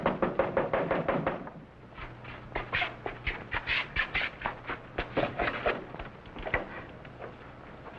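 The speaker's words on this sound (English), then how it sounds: "That man knocking on the door." A man knocks on the door of a house, a run of sharp wooden raps in uneven bursts, fairly close against a quiet room background.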